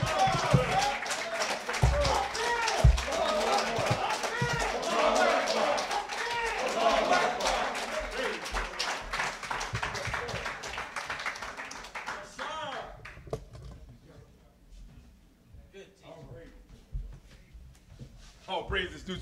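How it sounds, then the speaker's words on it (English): Clapping from a crowd mixed with cheering voices, loud at first and gradually thinning out to scattered claps and quiet. "Let's give him another round of applause"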